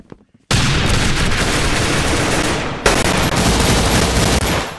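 Sustained automatic AK-74 fire in the video game Arsenal, loud and dense rapid bursts running almost without pause, with a brief break before a second long volley; no speech.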